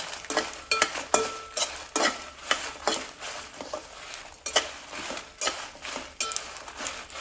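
Dried red chillies toast in a pan over a medium flame, a soft sizzle beneath repeated scraping and clinking as they are stirred at a steady rhythm.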